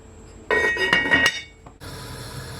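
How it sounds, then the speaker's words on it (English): Metal lid set onto a cooking pot of Jamaican brown stew chicken on the stove: a close, ringing clatter and clink lasting about a second, then quiet simmering hiss. "I'm gonna cover my pot and just allow it to cook on a medium to high heat."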